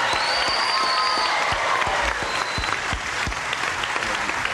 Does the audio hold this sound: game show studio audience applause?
yes